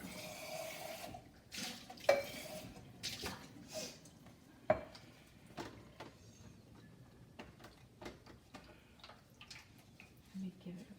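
Water runs and splashes as dyed fabric is rinsed in a sink or bath, a soft continuous wash broken by a few sharp clinks and handling knocks.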